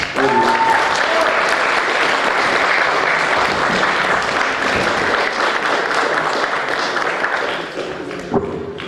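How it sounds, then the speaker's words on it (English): Loud, dense applause from a large audience, continuous and even, fading slightly near the end. "Let's give him one more round of applause, everybody."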